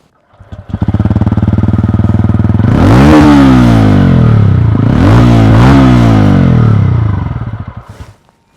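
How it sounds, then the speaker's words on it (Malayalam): A TVS Ronin motorcycle's engine note from the tail pipe, recorded close at the silencer: a loud, steady idle thrum with two sharp throttle blips rising and falling, then the engine dies away. "ഇനി ഈ ഒരു ടെയിൽ പൈപ്പ് ഇവിടെ കണ്ടല്ലോ, അപ്പോൾ എഞ്ചിൻ നോട്ട് കൂടി കാണണ്ടേ, അല്ലെങ്കിൽ കേൾക്കണ്ടേ?"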